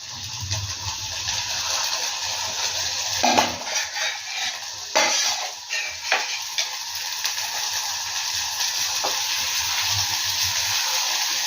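Food frying in hot oil for an ivy gourd dish, giving a steady close sizzle and hiss with a few brief clinks and stirring sounds, no talking.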